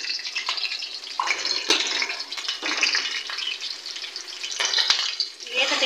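Dry coriander and garam masala frying in a pan before minced beef goes in, a bright crackling sizzle with stirring scrapes, close and continuous, with no one speaking.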